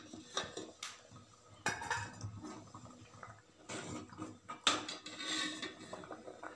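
A cooking pot of simmering moong dal and greens being opened, with a few sharp metallic clinks and clatters of the lid and utensils, quiet and close.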